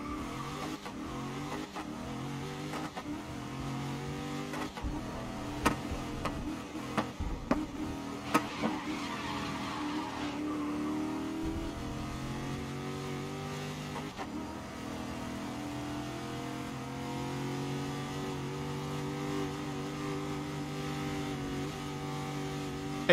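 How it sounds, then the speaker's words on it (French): A race car engine in the racing video game GRID revs and shifts through a night-time career race, with small exhaust backfire pops crackling over the loud, continuous engine drone and some tyre squeal. "Les petits bruits de retour de flammes sur l'échappement"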